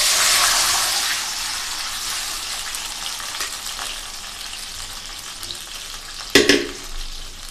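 Chalta (elephant apple) cooking water hits a hot mustard seed and dried red chilli tempering with a loud, rushing hiss that gradually settles into a quieter simmer. A sharp metallic clank sounds near the end.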